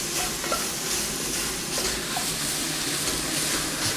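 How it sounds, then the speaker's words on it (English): Minced meat frying in a hot pan for lasagne soup, a close continuous sizzle with rhythmic scraping as the meat is kept moving, with no voices. "So we've got to keep the meat moving around. Until the whole lot gets brown."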